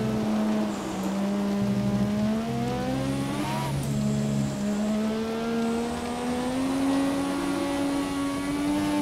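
Formula 1 car in the F1 2017 racing game held at full throttle in fifth gear at Spa-Francorchamps, a loud, steady high-pitched engine whine that rises gradually with a brief dip partway through, with no talk.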